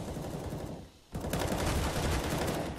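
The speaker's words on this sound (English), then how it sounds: "Pesadelo unloads his M4" Rapid automatic M4 rifle fire in a CS:GO professional match, a sustained loud burst that drops briefly near the middle and then resumes more densely, with overlapping shots filling the rest.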